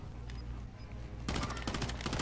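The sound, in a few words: gunfire in a Call of Duty video game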